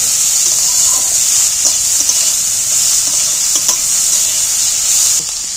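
Chopped onions and green chilies frying in hot oil, giving a loud, steady sizzle with intermittent stirring clatter throughout, no voices.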